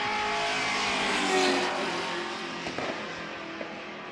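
Race cars accelerating side by side in a roll racing pairing in Adelaide give a loud, continuous engine roar that swells briefly and then eases slightly, with no voices over it.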